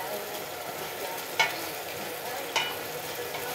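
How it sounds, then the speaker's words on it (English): Massaman curry paste stir-fried with coconut milk in a pan, a steady gentle sizzle with two distinct utensil clinks against the pan. "she's gonna stir fry the curry paste"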